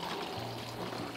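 Water poured from a container to refill small seedling pots in a garden, a soft steady trickle and splash lasting just over a second, faint and unbroken with no talking.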